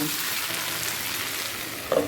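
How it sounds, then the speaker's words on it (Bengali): Continuous hissing sizzle of paneer frying in a covered pan over a low gas flame, steady and close, with a brief stir or clink near the end. "ভেজে নেব"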